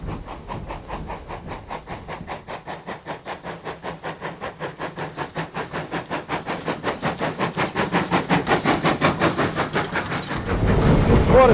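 A GWR steam locomotive on greasy, wet rails at the start of a steep 1 in 75 climb gives off a rapid, even train of chuffs that grows steadily louder, ending in a loud burst of hiss.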